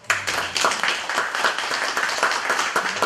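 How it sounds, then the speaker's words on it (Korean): Audience in a lecture hall breaks into applause, a dense wash of clapping from many hands that starts abruptly and holds steady, fairly loud and close, with no talk over it. "자, 박수 한번 보내주세요."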